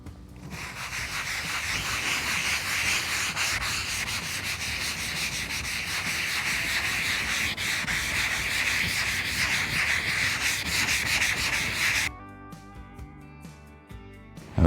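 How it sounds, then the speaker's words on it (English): Steady, loud scrubbing of a Scotch-Brite pad across the dirty powder-coated top of a Hasty Bake Legacy charcoal grill, continuing for about twelve seconds before stopping abruptly, with quieter handling noises after. "So I think I'm going to use my Scotch-Brite scrubber this time."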